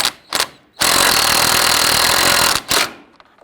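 A power tool tightens a radiator bolt on a 1999-2004 Jeep Grand Cherokee 4.7L V8: two short buzzing bursts, then a long loud whirring run of almost two seconds, then another short burst.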